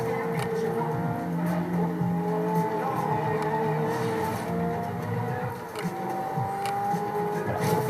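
Ferrari engine droning in the racing game Forza Horizon 2, a steady, moderately loud hum with shifting pitch as the car accelerates, plus faint tire noise and no talk.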